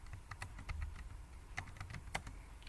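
Rapid clicking keystrokes on a computer keyboard while code is typed, a quiet, irregular run of taps with a few brief pauses and sharper accented strokes.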